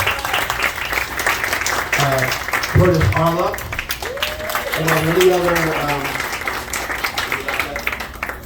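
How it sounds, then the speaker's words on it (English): Applause from an audience at a neighborhood community gathering with district leaders, a steady broadband clatter running under a voice as he reads out names over it. "please give her a big round of applause"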